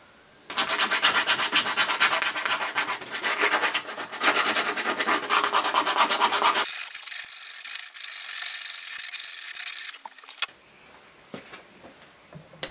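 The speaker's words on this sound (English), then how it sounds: "I use a file and sandpaper to round everything off" A file and sandpaper rub back and forth on a curved-front wooden box, rounding off its edges. The close, continuous rasping carries on in long strokes, changes texture partway through and stops briefly near the end.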